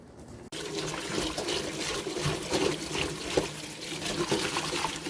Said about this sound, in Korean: 고구마 줄거리를 다 데쳐서 깨끗이 씻었습니다